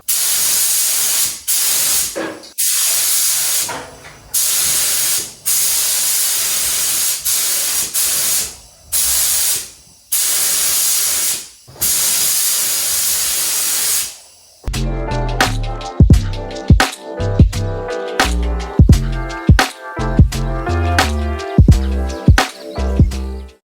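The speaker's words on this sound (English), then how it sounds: "we got the adhesion promotion on, and it's now time to prime. So here goes the first coat." Primer coat hisses from an aerosol can onto the rubber of a Foxbody Mustang quarter glass in short repeated bursts with brief pauses, followed by a stretch of loud music.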